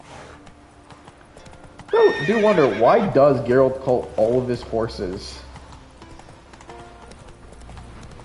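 Roach, the horse in The Witcher 3: Wild Hunt, neighs loudly and then clip-clops along at a steady gait, hooves drumming close and clear while someone talks over the sound.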